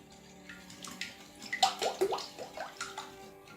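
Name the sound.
whisking custard ingredients for French toast bake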